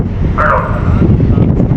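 Strong wind blowing across a ship deck at sea, a steady loud roar and rumble buffeting the microphone throughout with no pauses.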